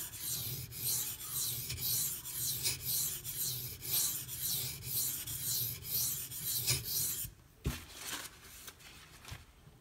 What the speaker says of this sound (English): Again, I lap this stone